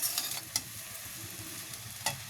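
Butter fried rice is stirred and turned in a pan, giving a soft steady sizzle broken by a few light scrapes and taps of the spoon, fairly quiet and with no voices.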